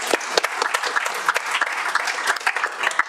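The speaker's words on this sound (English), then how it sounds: "We had a few rounds of applause this morning." A crowd applauds steadily at a county council meeting, many hands clapping in a dense, continuous patter that holds at an even level throughout.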